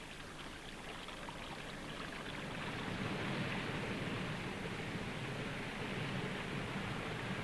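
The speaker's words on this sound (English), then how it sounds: "Meltwater streams run along the ice, or carve their way down through it," Meltwater stream running across the surface of a glacier, a steady broadband rushing and trickling of water that holds even and continuous throughout, slightly louder in the second half, with no voices.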